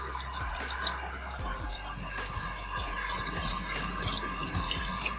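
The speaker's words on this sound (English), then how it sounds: "So here we are rinsing off the heart." Tap water runs steadily into a sink while a deer heart is rinsed under it, with a continuous splashing stream and small irregular drips and spatters close by, no talking.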